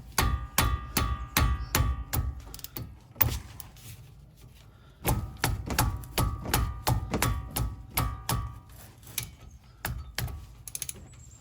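Two brake caliper bolts coming out with a 14mm socket: bursts of rapid clicking ratchet strokes and sharp metallic taps, pausing briefly mid-way before another run of quick clicks, close and fairly loud with no talk.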